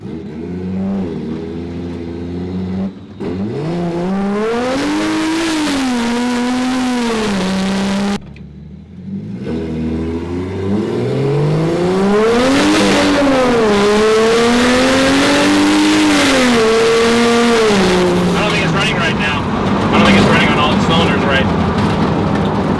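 A 1949 Ford body on a BMW chassis accelerates hard, its engine rising and falling through repeated revs and gear changes, loud and close, with a couple of sudden drops in sound between pulls.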